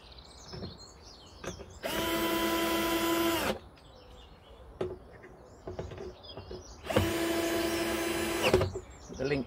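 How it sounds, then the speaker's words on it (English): Power drill driving self-tapping screws into a plastic pipe, two loud sustained whirring bursts of about two seconds each, close, with birds chirping faintly in the background between them. "once you've drilled this and ripped the drill through, it just makes it a little bit more solid"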